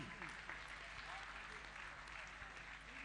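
A gathering at a Jain religious programme breaks into applause during an honouring ceremony, a brief, even patter of many hands at low volume.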